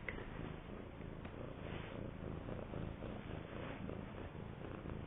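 A steady, low rumbling cat purr runs continuously and close, even in level throughout with no voices over it.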